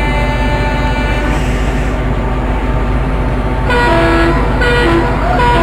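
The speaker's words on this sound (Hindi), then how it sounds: "ये हॉर्न की ट्यूनिंग बहुत प्यारी है" Rajdhani Express train horn in the Indian Railways Train Simulator game, a loud sustained tonal blast over the steady rumble of the locomotive, sounding again in short repeated toots toward the end.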